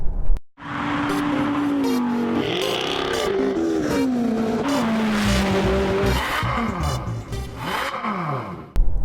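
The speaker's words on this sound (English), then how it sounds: "drive what is considered to be one of the rarest of all Porsches, the 993 RS Clubsport" A Porsche 993 RS Clubsport drives hard, its engine note rising and falling through gear changes, with tyre squeal and road roar close and loud throughout.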